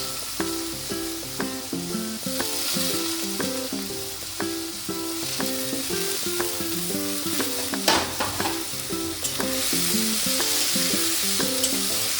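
Whole spices, cloves, cinnamon and cardamom fry with chopped onion in hot oil, giving a continuous hiss. A few louder crackles rise from the hiss, and steady rhythmic music plays over it throughout.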